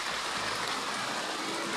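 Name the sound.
rain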